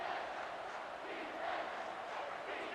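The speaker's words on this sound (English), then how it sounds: "Third down, and this crowd is tearing the lid off this place." A stadium crowd roars on third down in a college football video game, a steady, fairly faint wash of massed voices swelling slightly without a break, heard alone.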